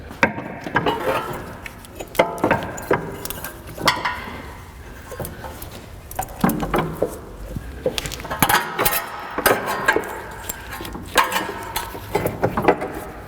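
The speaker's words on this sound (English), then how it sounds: "Since we're here, let's put the axle in." Axle going into a 2004 Acura TL with a 3.2L engine during an engine swap: irregular metallic clanks, clicks and ratcheting knocks of tools and parts, fairly close and moderately loud, with no talk.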